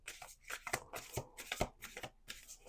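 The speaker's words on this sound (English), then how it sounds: "Let's do one more shuffle." Tarot cards riffled and shuffled by hand in a quick run of papery flutters and soft snaps, close and fairly quiet, with no talking.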